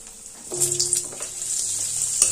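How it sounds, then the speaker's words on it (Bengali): Pre-cut potatoes drop into hot mustard oil with fried cumin seeds. A sharp sizzle bursts up close and then settles into a steady, soft frying hiss, with a second flare near the end. "এবার আগে থেকে কেটে রাখা আলু দিয়ে দিচ্ছি।"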